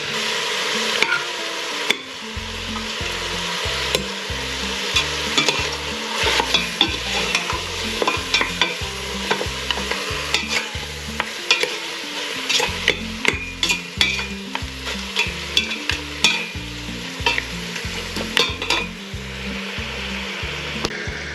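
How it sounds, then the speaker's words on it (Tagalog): Meat and tomato being sautéed for sinigang in a pot, with a rhythmic run of spoon scrapes and knocks over a steady sizzle, close and fairly loud, with no talking. "Habang hinihintay natin yung karne maluto, ginigisa natin."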